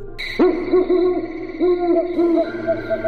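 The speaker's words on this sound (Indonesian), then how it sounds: "Suara burung hantu seakan mengikuti perjalanan" An owl hoots repeatedly in a rhythmic series of clear, loud, close calls, with a faint steady tone in the background.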